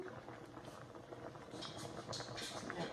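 Sauce for a tuna noodle casserole boiling and thickening in a pot: a quiet, steady bubbling with soft pops and sputters that grow slightly louder toward the end.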